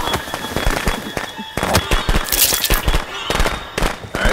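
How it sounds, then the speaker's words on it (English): Rapid bursts of firecracker pops and bangs in the video game Friday the 13th: The Game crackle in irregular clusters, loud and sharp, with a continuous hiss underneath. "Forget your firecrackers."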